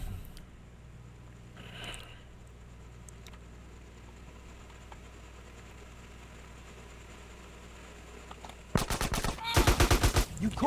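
Shotgun gunfire in GTA San Andreas, with a quick cluster of loud, sharp blasts near the end after a long stretch of low engine-like background hum.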